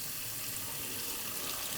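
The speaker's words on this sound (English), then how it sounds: "Back home we would put in water and just keep on spilling until the water is clear." Tap water running steadily into a pot or bowl of rice being rinsed, a bright continuous splashing hiss, close and alone.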